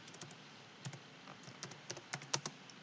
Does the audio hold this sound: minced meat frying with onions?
no